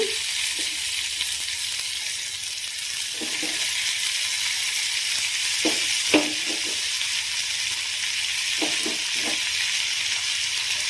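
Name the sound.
ridge gourd and soaked moong dal frying in a pan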